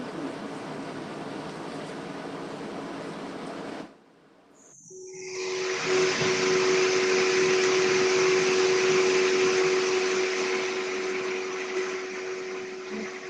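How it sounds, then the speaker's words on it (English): A vacuum cleaner drones steadily with a broad whooshing roar, briefly cutting out before starting up again louder with a steady whine, no voices. "Sounds like a vacuum."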